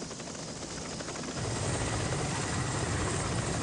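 A military helicopter of the Vietnam War era flies overhead, its steady rotor thrum and turbine roar rising slightly louder midway and holding constant, with no voices.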